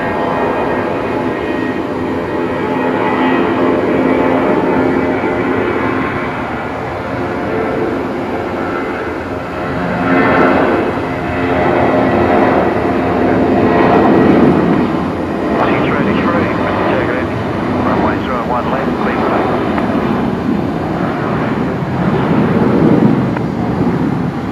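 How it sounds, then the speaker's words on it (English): Jetstar Airbus A320 taking off at night from Brisbane Airport, heading for Darwin, its jet engines making a broad, steady roar that swells and rumbles for the whole stretch, with voices talking over it. "All right, Jetstar 320 CO here, heading up to Darwin tonight."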